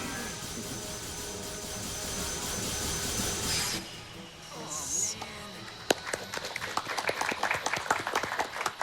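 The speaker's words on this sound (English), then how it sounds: "Yes, clap for how easy Aqua has it. Clap away" Scattered applause starts and builds into a crowd clapping, following a steady rumbling noise that cuts off abruptly.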